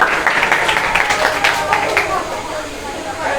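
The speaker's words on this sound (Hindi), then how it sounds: "जोरदार तालियों से इसको भी बधाइयाँ" An audience at a school cultural function applauds a student, a short burst of dense clapping in a room that starts loud and gradually tapers off.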